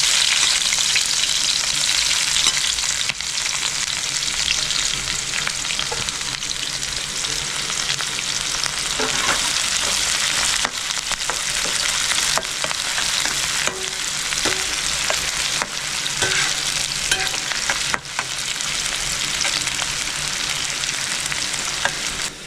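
Sliced onions deep frying in hot white oil for birista, a loud, steady, dense sizzle and crackle that runs continuously throughout, with occasional faint stirring clicks and no voices.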